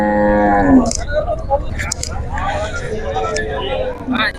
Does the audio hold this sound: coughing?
no